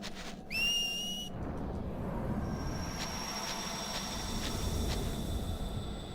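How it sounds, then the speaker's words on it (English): Whistle sequence in Final Fantasy X-2: a clear rising whistle tone opens, followed by a run of short repeated whistle blips over a steady background hum. "First whistle sequence out of the way."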